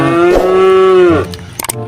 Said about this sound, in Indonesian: Wah dengar suara sapinya ada di sini nih